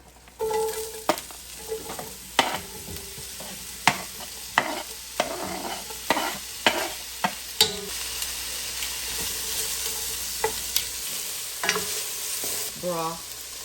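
Pot roast ingredients sizzle in a hot pot ahead of deglazing with broth, a continuous frying hiss broken by a dozen or so sharp clacks and scrapes of stirring, close and fairly loud.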